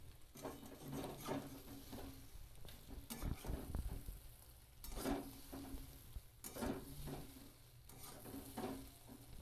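A tiffin snack fries in a pan until reddish-brown, giving a steady close sizzle broken by repeated scraping stirs.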